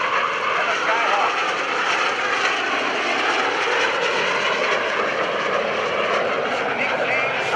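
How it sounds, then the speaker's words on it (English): A McDonnell Douglas A-4 Skyhawk jet makes a photo pass at an airshow at NAS Oceana, a loud sustained engine roar that holds steady throughout with a voice talking over it. "Here comes a photo pass. Steve Kirik and the Skyhawk."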